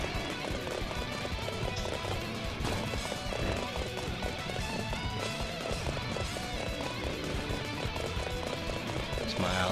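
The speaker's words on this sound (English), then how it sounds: "So, a lot of horse riding here." Rapid hoofbeats of galloping horses clatter in a constant rhythm during the Battle of Cheng Du in the video game Dynasty Warriors 8, with a busy backdrop of game noise and an occasional whinny.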